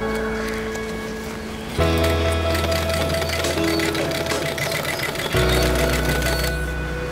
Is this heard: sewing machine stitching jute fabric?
yes